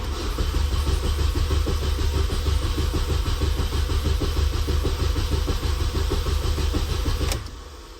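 A car engine cranks without starting because its fuel pump relay has been removed. The starter whirs loudly and steadily for about seven seconds, then stops abruptly and leaves a low hum. No one speaks.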